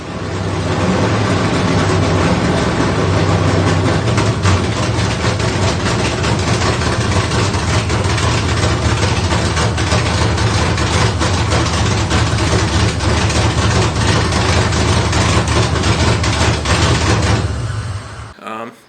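Cammed 6.3L V8 swapped into an E46 BMW M3, idling cold right after its first start: a loud, steady, lumpy low rumble that holds for most of the stretch, then cuts off near the end.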